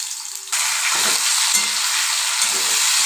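Potatoes drop into hot oil with browned cumin seeds and a loud, steady sizzle erupts, with occasional stirring scrapes beneath the continuous frying hiss.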